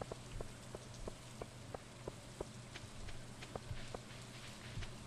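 Rain falls on a farm in Stardew Valley as a soft, steady patter, with faint repeated clicks and footstep-like taps scattered through it and no talking.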